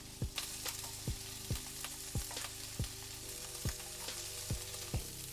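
Snap peas and onions sizzle steadily in a stir-fry pan with a broad, even fry hiss, broken about once a second by short regular clanks and scrapes of stirring, close and alone.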